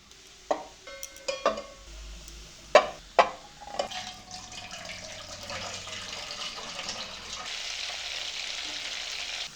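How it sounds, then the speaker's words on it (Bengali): Onions go into hot oil over a high flame to fry for beresta: several sharp clatters and sizzling bursts at first, then a steady bubbling hiss of deep-frying that grows gradually denser. "তেল ভালোভাবে গরম হয়ে যাওয়ার পরে পেঁয়াজগুলো দিয়ে বেরেস্তা ভেজে নিতে হবে"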